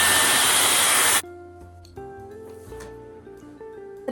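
A Dyson Airwrap or a TikTok Shop dupe hair styler blows a loud, steady rush of air close up for about a second, then cuts off, leaving quieter background music.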